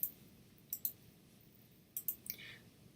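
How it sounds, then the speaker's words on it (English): Computer mouse buttons clicked while navigating a web page in a JavaScript lesson: several faint, crisp clicks arriving in pairs and small clusters over a quiet room hum, with no talking. "So here in our page, I'm clicking on George, and we can see we have that message"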